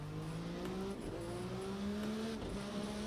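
A Dallara IR-12 Honda race car in Project Cars 2 on the Daytona road course, its engine droning loud and steady as the pitch climbs under power, dips briefly at a gear change, then rises again.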